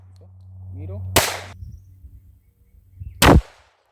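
Two sharp, loud test shots from a less-lethal traumatic pistol crack out about two seconds apart, each a sudden close blast with a short tail, after a low hum and a brief voice.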